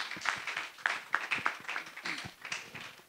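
An audience at a community panel claps for a student panelist, a short burst of uneven, close hand claps lasting about three seconds at moderate loudness.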